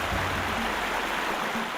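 A clean stream or river flows steadily in a continuous broadband rush of water. It holds an even level throughout and no voices are heard.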